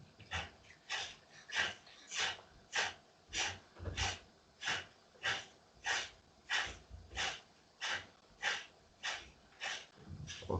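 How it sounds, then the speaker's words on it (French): Kapalabhati breathing during a yoga session: about fifteen forceful, sharp nasal exhalations pump out at a steady rhythm, roughly one every half-second to second, close and clear with no talk. "On repart pour 15 expirations Kapalabhati."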